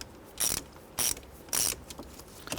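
A ratchet snugs the fan control switch screws on a 1997-2006 Jeep Wrangler in three short, close bursts of clicking, each about a quarter second, with faint handling noise between them.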